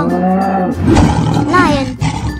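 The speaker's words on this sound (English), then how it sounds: "Lion." A lion's roar rumbles loudly in a couple of rough, throaty bursts, close and dominant, with a brief tonal wobble in the middle.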